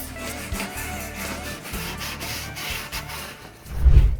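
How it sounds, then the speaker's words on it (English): Hand sanding a plywood cornhole board with 220 grit sandpaper: rhythmic back-and-forth scratchy rubbing strokes, close and steady, ending in a louder thump-like swipe. "And I'll finish it off with some final hand sanding."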